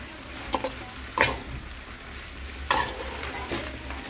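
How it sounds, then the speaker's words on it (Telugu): Potatoes are fried for aloo fry in a soft, continuous sizzle, with a few distinct spatula scrapes and clinks against the pan and no one speaking. "అందుకోసం ఆలు ఫ్రై చేస్తుంది సుబ్బు"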